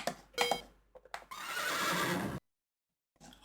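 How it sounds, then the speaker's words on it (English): A horse sound effect from an Amiga computer game whinnies in a bright, drawn-out burst after a couple of short snorting sounds, then cuts to silence before a faint noise returns. "Horse."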